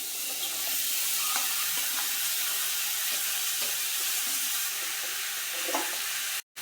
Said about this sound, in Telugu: జీలకర్ర వేగిన తర్వాత బీరకాయ ముక్కలు వేసుకుని మగ్గ పెట్టుకోవాలి